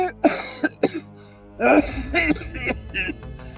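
A man gives several sharp coughs and throat-clearing bursts, then talk and further coughs follow in a quick, uneven run, loud and close.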